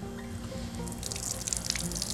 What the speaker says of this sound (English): So we'll just turn the water on ever so slightly.